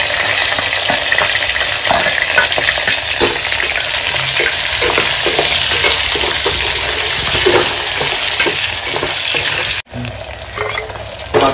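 Onions and green chilies hit hot oil with whole spices for a paneer pulao, giving a loud, steady sizzle with stirring scrapes throughout and a brief dip near the end.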